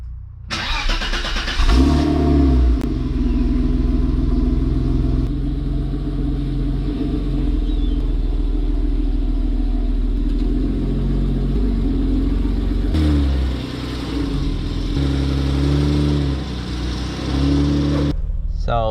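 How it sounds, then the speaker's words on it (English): A BMW E30 325i with its inline-six engine runs steadily while driving around the block to warm the oil, a loud continuous low rumble with mild shifts in pitch as it accelerates and settles, heard from inside the car. "Let's take for a spin and come back and replace the oil then."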